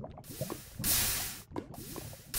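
Molten metal pouring in the Minecraft Tinkers' Construct mod: soft gloopy liquid bubbling and dripping sounds, interrupted by a louder rushing hiss midway, close and alone.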